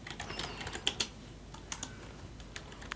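Keys clatter on a computer keyboard while someone types labels into a Microsoft Access form, a quiet, close, uneven patter of single clicks with short pauses and no talking.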